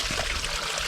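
Water trickling in a steady, close, broadband splashing flow, brief and continuous with no voices.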